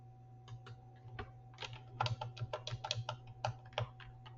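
Typing on a computer keyboard while entering numbers in Canva, a quick irregular run of soft, close key clicks over a steady background hum.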